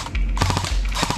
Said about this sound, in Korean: 제압 사격 합시다.